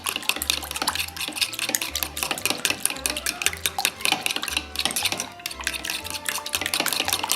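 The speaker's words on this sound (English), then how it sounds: "we're gonna mix them all together and make a mess" Pancake batter of milk and melted butter being stirred in a bowl, with a quick, steady rhythm of whisking and utensil scraping against the bowl's sides. Clattering continues throughout over background music.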